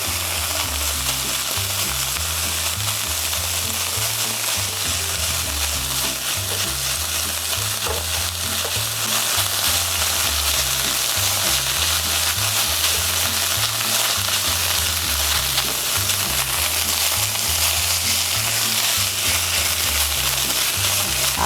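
Diced onion sizzles with tomato paste in a pan for a Ghana meat pie filling, a loud, dense, steady crackle and hiss that runs unbroken from start to finish.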